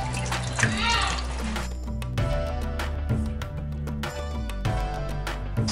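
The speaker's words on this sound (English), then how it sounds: "we're going to put some cold water into that" Cold water poured into a cooking pot of koi fish curry in a home kitchen, a splashing, running pour that mixes with clattering and people chatting over it.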